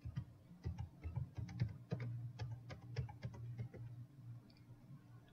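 Keystrokes on a computer keyboard as a DNS name or IP address is entered, a quick irregular run of light taps over a low steady hum, fading to quieter taps near the end.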